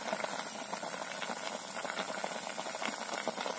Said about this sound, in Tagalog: So, ayan. Kumukulo na po.